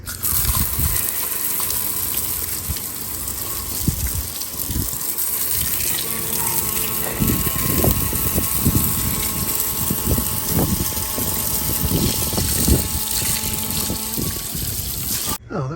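A freshwater pump aboard a sailing boat runs steadily, giving a continuous gushing, rushing water sound with a faint mechanical whir underneath, close and fairly loud throughout before stopping abruptly at the end.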